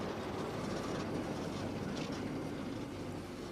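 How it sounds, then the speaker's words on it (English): A London Underground train moves slowly through a depot, a steady continuous rumble of wheels and running gear heard at a distance without break. "how long are you going to be with that train?"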